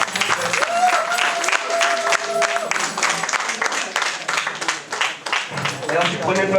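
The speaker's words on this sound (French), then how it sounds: "Et pour accueillir le futur marié, M. Maboula, tous vos applaudissements s'il vous plaît" Wedding guests at a ceremony in Pointe-Noire applaud the groom's arrival, steady clapping mixed with loud music, shouting and cheers, with voices talking over it throughout.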